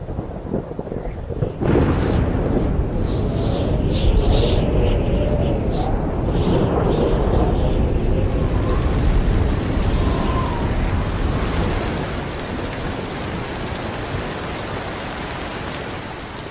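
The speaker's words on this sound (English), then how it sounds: "In the dry season, storms can roll in quickly, but they don't last long." Thunderstorm in the dry season, with a sudden loud crack of thunder followed by heavy, steady rain pouring down close by, rumbling continuing through the downpour.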